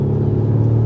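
A steady, deep diesel engine rumble from an Audi SQ5 with a low, even drone, close and continuous, with no other sounds on top.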